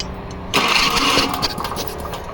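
A Toro Big Red rototiller engine cranks over without catching, giving a rough, loud, sputtering churn that runs for about two seconds.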